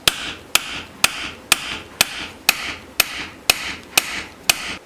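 A hammer strikes a European scythe blade under repair in a slow, even series of about ten sharp metallic taps, each ringing briefly, close and alone.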